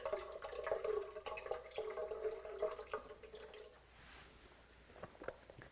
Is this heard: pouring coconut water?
yes